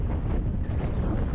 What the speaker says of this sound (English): So you can hear the wind.